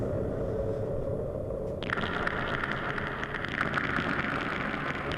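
Steady video game rain hiss swells in partway through, a broad wash of falling water over a low rumbling background.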